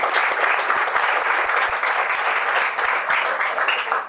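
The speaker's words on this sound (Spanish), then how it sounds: "La podemos recibir con un aplauso también." Audience applause at a lecture, a dense sustained wash of many hands clapping close and loud, steady throughout with no talk over it.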